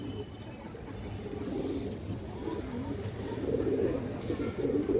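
Low, throaty cooing from a big high flyer pigeon with red-ringed eyes and purple feet, repeated in soft rolling bursts that build slightly louder toward the end, close by over a steady background hum.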